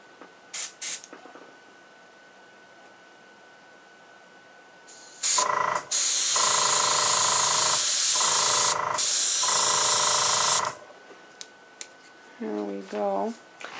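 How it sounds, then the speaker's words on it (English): Airbrush spraying colour onto the leaves of a tree on a decorated Hello Kitty cake: a steady hiss rising for about five seconds with brief breaks, close to the microphone, after quiet handling clicks and followed by a short spoken remark. "Now I'm going to just airbrush the leaves"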